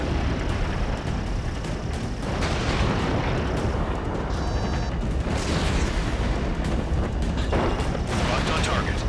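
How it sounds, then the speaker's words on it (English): Ace Combat 7 air combat with a missile launch and explosions: dense, continuous roaring blasts and booming fire fill the whole stretch, loud and close, with short whooshing bursts over a steady engine rumble. "Missile away."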